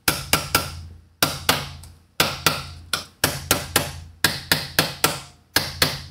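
A small toy hammer strikes repeatedly in quick clusters of two to four sharp knocks, each ringing briefly, close and fairly quiet.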